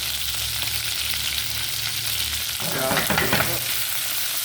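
Onions sizzle in a hot pan for a chicken curry, a steady dense frying hiss with a brief burst of scraping and stirring partway through, close and continuous, with no talking.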